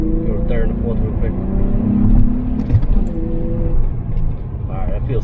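A car, an Acura or Honda fitted with hybrid racing shifter cable bushings, accelerates through third and fourth gear, its engine droning steadily and shifting pitch while someone talks over it.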